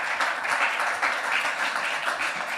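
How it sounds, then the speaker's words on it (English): Audience applause at a COP28 climate justice panel session, a steady dense wash of clapping from a crowd throughout, moderately loud with no talk over it. "we can applaud for that, of course"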